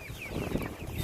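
Farm chickens cluck and chatter in a dense flock, their overlapping calls close and continuous against a busy poultry-house background.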